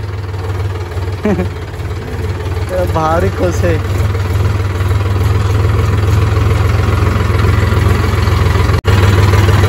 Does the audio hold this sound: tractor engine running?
yes